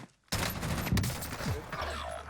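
Gunfire in Call of Duty Warzone bursts in after a short silence, a dense run of rapid shots and impacts that stays loud to the end, with a sharper crack near the middle.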